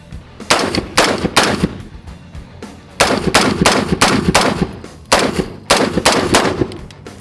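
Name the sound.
gunfire from Dark Storm Industries Variant 1 rifle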